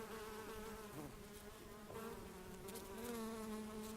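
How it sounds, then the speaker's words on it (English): Bees buzzing around an avocado orchard, a faint, continuous insect drone with a few passing individual buzzes and no voices. "We have a population of bees all year round."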